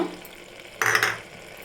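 Spices stirred into frying masala for a dried-fish biryani: quiet sizzle, then a brief louder scrape and hiss of stirring that fades again.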